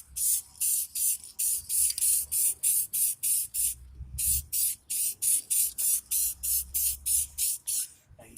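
A spray can coats a headlight on a 20-year-old van in rapid repeated hissing bursts, about twenty short even sprays with one brief pause midway, close and clear without speech.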